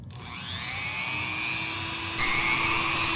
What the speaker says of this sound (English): They're a little hard to cut, so I use a Dremel cutoff wheel.